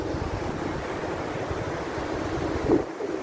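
Sea waves at Puri beach on the Indian coast wash in as a steady, loud broadband roar with wind buffeting the microphone, swelling briefly near the end.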